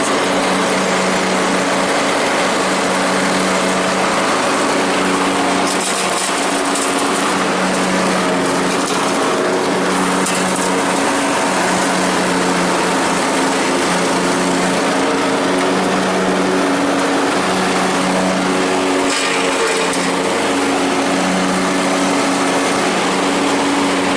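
A Troy-Bilt Horse 20-HP hydrostatic 46-inch riding lawn mower runs steadily outdoors, its small engine giving a loud, even drone with slight wavering throughout and no speech.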